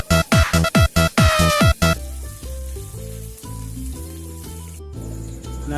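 Fish frying in hot oil with a lid going onto the pan: loud rhythmic clatters and scrapes at first, then a steady crackling sizzle with scattered pops.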